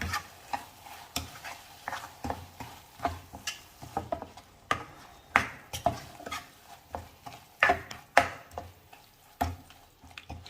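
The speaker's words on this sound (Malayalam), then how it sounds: "നന്നായിട്ടൊന്ന് മിക്സ് ചെയ്യണം. ഈ തേങ്ങയിൽ ഈ മധുരവും എല്ലാം ഒന്ന് പിടിച്ച് വരണം." A spoon stirs fried grated coconut with sweet pineapple curry in a pan, giving repeated scraping and clattering strokes in an irregular rhythm, close and fairly loud, with light sizzling between them and no talk.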